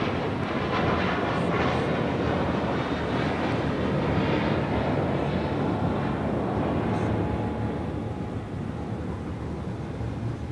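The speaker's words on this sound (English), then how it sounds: "That was American Airlines Flight 1578 heading to Boston at A321." An American Airlines Airbus A321 at LAX, a steady loud broadband jet engine roar that holds level before easing slightly toward the end, heard from outdoors at a distance.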